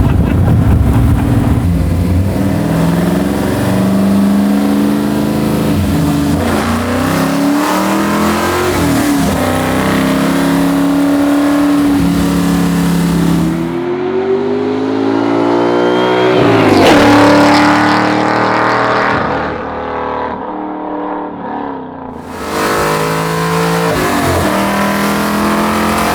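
A 700 HP big-block V8 in a 1966 Ford Mustang with nitrous revs hard and loud up close, its rising and falling engine pitch sweeping through repeated blips and long pulls with no talking.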